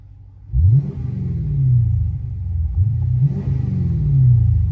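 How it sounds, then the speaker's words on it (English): A Chrysler 300 with a Flowmaster Super 40 muffler and 5-inch tips revs loudly up close: a sharp throaty blip, then two longer deep roaring pulls that rise and fall, with a rumbling idle between. "Hold on, let me rev it a little."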